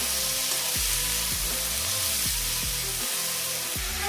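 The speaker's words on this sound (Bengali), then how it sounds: "ভাজা ভাজা হতে কিন্তু একটু দেরি লাগবে, ভালো করে ভেজে নেব" Pumpkin with torn green chillies and turmeric frying in a pan gives a loud, continuous close-up sizzle that holds steady throughout, with a few faint clinks underneath.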